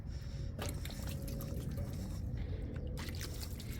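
Water sprinkled from a watering can onto freshly sown seeds in a home garden, a soft continuous patter and trickle with faint drips, quiet and close, no talking.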